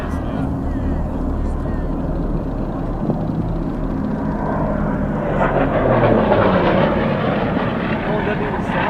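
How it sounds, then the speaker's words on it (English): Racing aircraft streaking low overhead, a continuous loud roaring engine rush that swells toward the end as it passes close by. "The aircraft streaked low, powerful, graceful, controlled, until it wasn't"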